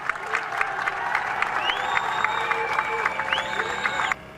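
An audience applauds the president of the Republic at a formal speech, with dense steady clapping and a tonal whistling line over it. The applause stops abruptly near the end.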